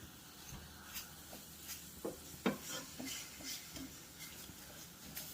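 Ground beef with chopped onion frying in a pan, broken up with a utensil: faint soft sizzling under scattered light scrapes and taps against the pan, close but quiet, no talking.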